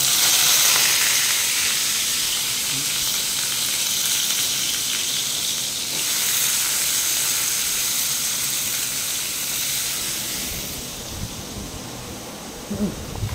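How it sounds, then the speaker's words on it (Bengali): Bitter gourd frying in hot oil, a steady loud hiss of sizzling that continues throughout, easing slightly near the end, with no talk. "তেলটা গরম হয়েছে নাকি একবার দেখে নিলাম। এবার করলাটা ভেজে নিই।"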